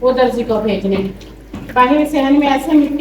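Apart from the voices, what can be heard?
None of the usual background noises is heard.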